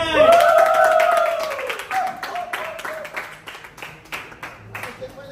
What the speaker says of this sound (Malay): tepuklah tangan